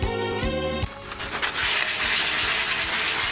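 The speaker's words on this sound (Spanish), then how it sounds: "antes de empezar a lijar con muchas lijas para sacarle el espejo" Sandpaper rubbing against a cast aluminium Minecraft-style dagger, a harsh, close scraping in quick repeated strokes that turns into a steadier, rougher grind after a short break.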